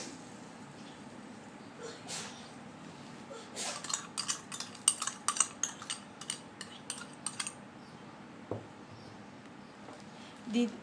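Sugar added to a mango pickle mixture, heard as faint, quiet clinks and light scraping of a spoon against a container over a steady background hiss, with a cluster of small taps in the middle.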